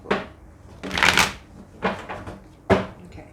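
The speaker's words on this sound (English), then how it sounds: "One more shuffle." Tarot cards being shuffled by hand, several short papery riffling bursts with brief pauses between them, close and fairly loud with no talking.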